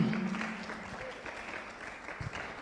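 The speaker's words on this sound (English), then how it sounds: "Keep on clapping." An audience at a democracy and youth forum claps together, a dense, moderately loud burst of applause that gradually fades.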